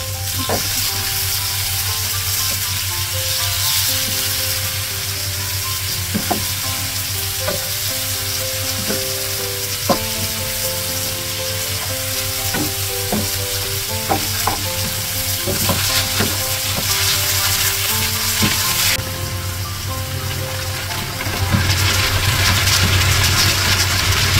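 Onions, tomato and lemongrass sizzling steadily in a hot pan for a Filipino coconut-milk tuna dish, continuous close frying hiss with scattered clicks and scrapes of stirring throughout.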